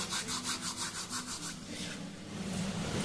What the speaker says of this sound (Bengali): কালো জিরেগুলো হাত দিয়ে একটু ঘষে নিলাম